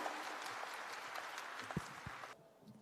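An audience at a student gathering applauds faintly, a thin, even patter of clapping that cuts off abruptly near the end.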